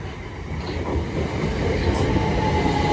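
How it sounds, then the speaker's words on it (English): A Southeastern passenger train, the Ramsgate to London Charing Cross service, runs through Deal station with a loud, steady rumble and rolling wheel noise close by. "the 1539 Southeastern service from Ramsgate to London Charing Cross."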